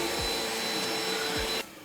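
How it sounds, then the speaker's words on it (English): A vacuum cleaner runs loud and close with a steady whining drone and a couple of brief low thumps as it moves, then cuts off abruptly near the end. "Vacuum B-roll."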